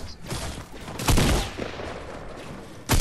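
Shotgun blasts in Fortnite, a couple of heavy booming shots spaced apart amid rumbling game noise, loud and close.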